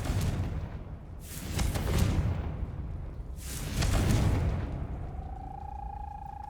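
Two heavy booming blasts from the Confringo spell in Hogwarts Legacy, spaced a couple of seconds apart, each a broad rumbling burst that decays slowly, followed by a faint steady tonal hum.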